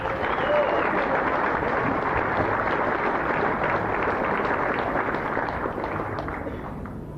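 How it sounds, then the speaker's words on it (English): Audience applause at a rockabilly music event, a dense sustained wash of clapping and crowd noise that holds steady throughout and tapers slightly toward the end. "What about a big round of applause for Ward?"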